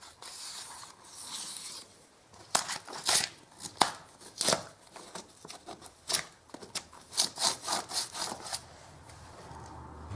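Worn 120-grit sandpaper rubbed by hand along a plaster edge on a staircase: soft, close scratchy strokes that start quiet, then come in quicker uneven bursts, with no talking.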